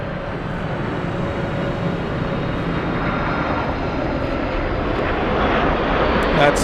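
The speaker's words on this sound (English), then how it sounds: "That's Lufthansa Flight 493 inbound from Vancouver, Canada, British Columbia, excuse me, on the 747-400." A Lufthansa Boeing 747-400 inbound from Vancouver arrives at Frankfurt with a continuous four-engine jet rumble and whine, fairly loud and steady, rising slightly toward the end, with no talking.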